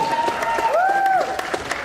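Brief audience applause at a costume contest, scattered claps mixed with a rising and falling tonal whoop or whistle, moderately loud and short.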